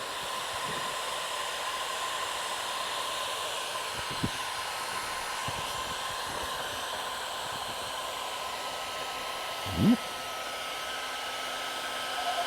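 Heat gun blowing hot air over car wrap vinyl during application, a steady loud broadband hiss running throughout with a few faint knocks and one brief bump near the end.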